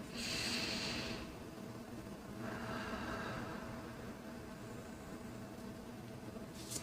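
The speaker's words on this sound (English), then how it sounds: "Let's take a deep breath." A slow, deep breath drawn in and let out, airy and close, standing out above a steady hiss of background noise with no talking.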